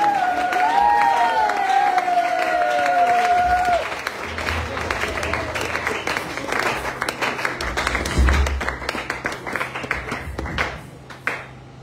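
A church congregation applauds and cheers for the preacher, with sustained clapping and crowd noise; a tonal ringing sound opens the stretch before the applause carries on, fading slightly toward the end.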